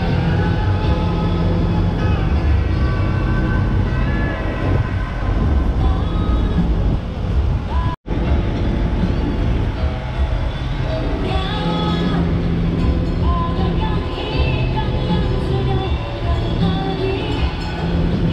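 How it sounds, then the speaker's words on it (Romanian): A small tourist train in Jakarta, Indonesia rolls along its rails with a continuous loud rumble and faint wheel clatter, broken by a brief cut partway through. "Și avem și un trenuleț aici."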